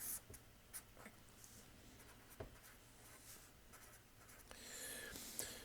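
Pencil drawing a 30-60-90 triangle on paper, faint scratchy strokes with occasional sharper taps, very quiet and close, ending in a longer rubbing stroke.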